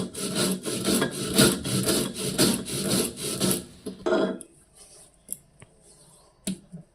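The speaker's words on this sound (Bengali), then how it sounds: "মশলাটা এবার আমি বেটে নিচ্ছি।" Mustard, ginger and poppy seed are ground into a spice paste on a stone slab, a rhythmic gritty rasping of repeated strokes for about four seconds, then a few scattered taps and scrapes.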